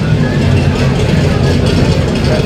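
A 1967 Shelby 427 semi-competition Cobra side-oiler V8 rumbling loudly and steadily at low speed as it rolls onto an auction stage, its deep throb continuous throughout with crowd murmur underneath.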